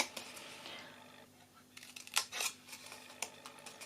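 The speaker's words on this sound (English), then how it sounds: "And now all I'm doing is just snipping away the score lines" Scissors snipping small pieces of scored paper off an Easter gift bag made with Stampin' Up! products, a few sharp close snips and crinkles spread over a quiet background.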